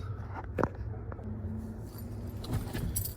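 Car keys for a 1995 Ford F150 jangle close by in a few short metallic bursts, with a faint low hum of the surroundings beneath.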